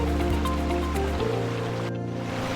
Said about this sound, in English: Finally, the waterfalls.